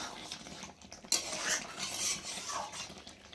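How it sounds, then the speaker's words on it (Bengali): A spoon scrapes and clinks against a metal pan as chicken curry with garam masala is stirred, producing close, repeated metallic strokes over a low cooking hiss, with no speech. "সবটাই দিয়ে দিলাম দিয়ে একটু নাড়াচাড়া করে নেব"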